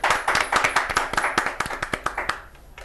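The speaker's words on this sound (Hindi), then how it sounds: "बहन वीना कुमार जी और जोर से ताली बजाएंगी" Rhythmic, fairly close clapping for a contestant on a quiz show, with roughly a dozen distinct claps in a steady beat that soften and stop near the end.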